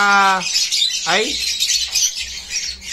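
A Green Opa hen, a proven breeder bird, gives a loud harsh squawking call up close, followed by a second shorter rising call, with faint background noise and voice-like sounds.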